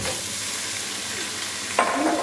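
Chicken pieces go into a hot pan already frying ginger, garlic and green chilies over high flame, giving a steady loud sizzle with a sharp burst of crackling as the meat lands and is stirred.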